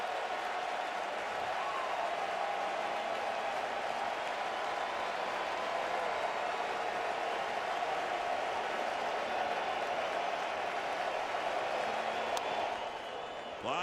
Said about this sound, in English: Crowd on its feet.